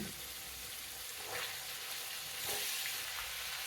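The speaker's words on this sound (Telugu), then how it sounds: "ఈ బీరకాయ ముక్కలన్నీ వేయించుకుందాం వీటిని కొంచెం పచ్చివాసన పోయే వరకు వేయించుకుందాం" Ridge gourd pieces frying in a pan with curry leaves give a steady, close sizzle, a continuous hiss with a few soft stirring scrapes and no talk.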